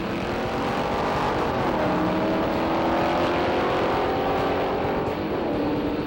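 A Weber-carbureted 427 Contemporary Cobra kit car on a bracket drag-racing pass, its V8 roaring loud and steady throughout with the engine note rising and shifting as it pulls.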